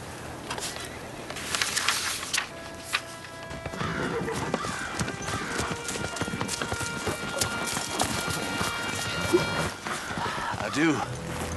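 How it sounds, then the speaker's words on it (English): Horse hooves clip-clop steadily on the ground in a Western drama scene. A whinny sounds among the hoofbeats, with voices and background sound throughout. "That horse here's about near run out, soldier."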